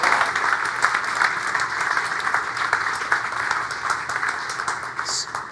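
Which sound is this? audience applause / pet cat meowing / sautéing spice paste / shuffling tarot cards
audience applause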